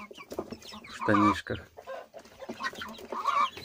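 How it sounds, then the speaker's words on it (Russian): A rooster and young chickens cluck in short, close bursts, one loud squawk rising among the rest, while a person talks over them. "Ага, вот этот петушок."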